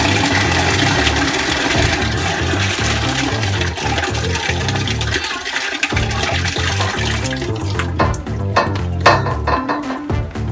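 Water from a tank motor's pipe gushes into a bucket below, a loud, close, rushing pour that runs without a break and shifts to a sloshing, filling sound toward the end.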